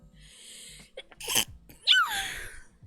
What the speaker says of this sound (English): That sneeze snuck up on me.